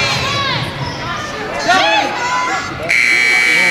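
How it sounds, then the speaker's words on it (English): A loud game-end buzzer sounds in a school gym at a Muleshoe Mules vs. Friona Chieftains high school basketball game, a steady electronic drone starting near the end over crowd cheering and a commentator's voice. "Three-pointer by Hurtado, and at the buzzer"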